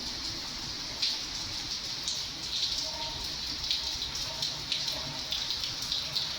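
Rain comes down outside on a Saturday, a quiet steady wash of water with irregular drips and splashes close by, no voices over it.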